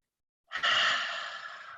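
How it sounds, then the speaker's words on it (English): A single deep breath exhaled slowly during a calming breathing exercise, a close, breathy rush that starts abruptly and fades gradually, alone in silence. "take a really nice deep breath in through your nose so you can hear yourself"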